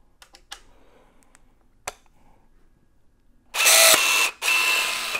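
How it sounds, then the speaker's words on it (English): A STANLEY battery-powered engineered-fastening tool places a fastener: a few light clicks and handling taps, then two loud, sharp bursts of mechanical whir close up, separated by a brief pause. "So what I'm going to do is just quickly place a fastener."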